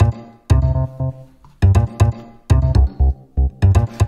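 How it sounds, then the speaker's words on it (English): Choppy synth chords gated into short staccato stabs, with a bass underneath, pulse in a syncopated groove, loud and close with abrupt on-off edges and no voices. "we go back to the sort of gated staccato chord sounds"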